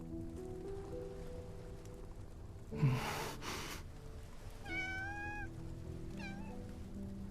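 A cat in a video game meows twice, short rising cries set against soft rain and a quiet musical background, after a brief breathy rustle.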